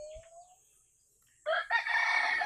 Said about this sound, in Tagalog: Ang daming manok guys.